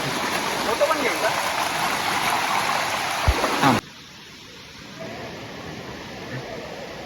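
Flowing river water makes a loud, broadband rush for several seconds before it cuts abruptly to a much quieter, distant wash.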